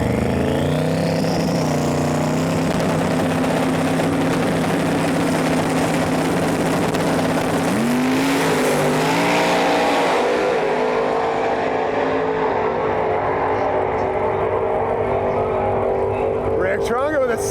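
A 1972 Plymouth Duster drag car with over 2000 horsepower makes a full-throttle pass at a drag strip, a loud sustained engine roar rising in pitch, shifting, then fading into the distance.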